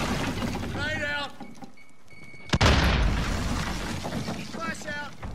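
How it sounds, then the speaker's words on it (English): A grenade goes off in a military shooter video game as a single sharp, loud blast followed by a sustained roar of rumble and debris, with game voices speaking before and after. "Grenade out."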